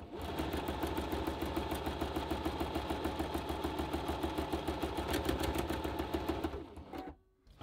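A Toyota Oekaki 50 sewing machine stitches free motion embroidery in a fast, steady mechanical rhythm close by. It runs without a break for about seven seconds, then stops abruptly.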